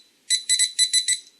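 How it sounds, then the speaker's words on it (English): A Deteknix metal detector gives its proximity alert: a quick run of six shrill electronic beeps in an uneven rhythm, close and clear, with no talking over them. "It does give you a proximity alert."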